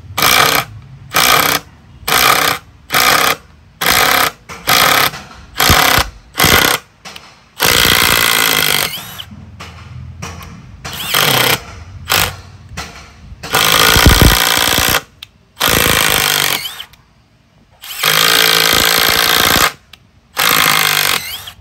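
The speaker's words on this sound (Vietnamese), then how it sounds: "Đây là chế độ bắn ống vít tự động nha các anh, bắn nó sẽ gõ từ từ vào ha." A Milwaukee M12 3453-20 impact driver drives screws in repeated loud bursts of rapid hammering, short pulses at first and then longer runs with brief pauses between them.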